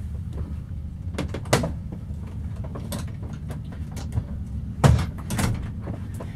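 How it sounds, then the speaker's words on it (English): A door in a home is pushed shut, giving faint scuffs and clicks followed by a soft thud near the end of an otherwise quiet room. "So let me close the door real quick here."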